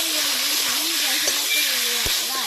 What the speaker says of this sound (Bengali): এবার আমি এর মধ্যে মাংসটা দিয়ে দেবো।